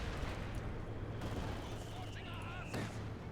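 Incendiary machine-gun fire in the real-time strategy game Company of Heroes 2 rattles through a dense, steady wash of battle noise, with brief game voice lines heard over it.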